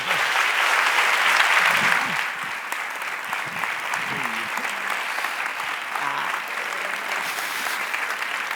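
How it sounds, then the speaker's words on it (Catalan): Audience applause fills a school theatre gala as Romeo and Juliet come on stage. The clapping is dense and steady, swelling loudest in the first two seconds and then holding even for the rest, with faint voices murmuring underneath. "Gràcies pels aplaudiments."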